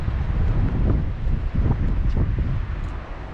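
Strong wind buffets the microphone outdoors in Barnstaple, a loud, steady low rumble with gusty swells and no other clear sound.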